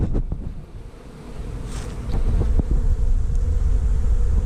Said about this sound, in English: I don't know if you can see all the bees flying right now